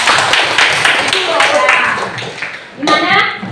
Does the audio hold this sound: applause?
yes